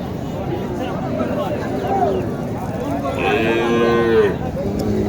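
Cattle, including small Sahiwal heifers, moo loudly at a busy rural cattle market in Naogaon, with a long low bellow near the end over crowd murmur and people talking nearby.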